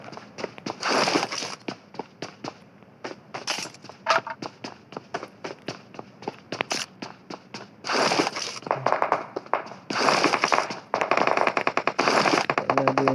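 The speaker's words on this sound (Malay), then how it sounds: "Dah ada orang menembak." Bursts of rapid gunfire in the video game PUBG Mobile crackle in quick volleys, some near and loud, others sharper single shots, with short gaps between bursts.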